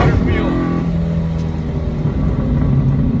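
A 900 wheel-horsepower car accelerates hard during a ride-along: a loud, close engine and drivetrain roar with a rising pitch early on, then a sustained heavy drone, under excited talking inside the cabin.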